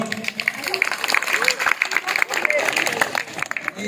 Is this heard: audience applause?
yes